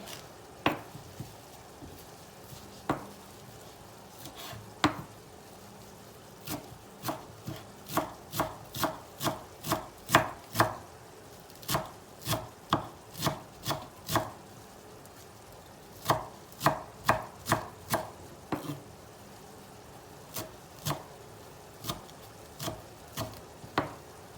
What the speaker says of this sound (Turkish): Maydanozunu ve soğanını doğrayıp hazırlayacağım